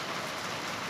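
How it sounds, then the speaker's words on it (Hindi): Rain falls outside, a steady, dense hiss that stays even and moderately loud throughout, with no voices. "इस टाइम मैं रिकॉर्डिंग कर रही हूँ, वीडियो एडिट कर रही हूँ, तब भी बाहर बारिश हो रही है।"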